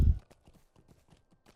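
Horse hooves clip-clopping in the Lord of the Rings Online video game, a soft, steady run of light footfalls following a brief low thump at the start.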